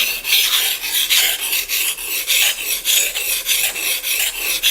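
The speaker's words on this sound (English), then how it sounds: "So I wet out my stone, got ready, and got to sharpening." A TOG knife blade is drawn across a wet whetstone in steady repeated rasping strokes, about a dozen even passes close up, with no voices.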